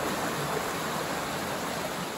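Steady rushing water from a river fills the air, a broad, even flowing hiss without pauses, close and fairly loud.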